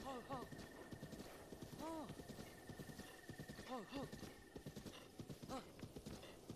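Horse hooves clip-clopping in a steady rhythm with several short whinnies in the Breath of the Wild video game, fairly faint, with people talking over it.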